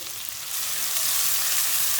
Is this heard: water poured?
no